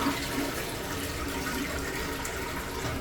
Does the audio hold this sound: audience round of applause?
no